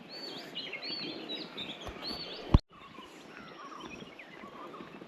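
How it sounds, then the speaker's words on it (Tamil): Birds calling around a tea estate in the hills, several high chirps and whistled notes at mid distance over a low background hum, interrupted by one sharp knock midway. "பறவைகள்"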